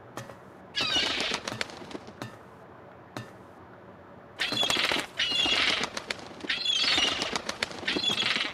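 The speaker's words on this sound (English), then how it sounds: "I'm not sure if that seagull is bugged or what" Seagull in the video game No One Lives Under The Lighthouse, giving repeated bursts of bright, raspy calls with brief gaps between them, loud and close with no talking over it.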